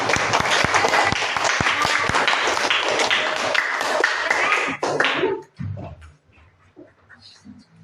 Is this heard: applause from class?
yes